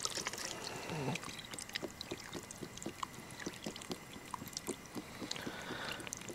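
Broth poured into a pot of braised beef short ribs, a steady liquid pour with scattered clinks and splashes, fairly faint and close, with no talking.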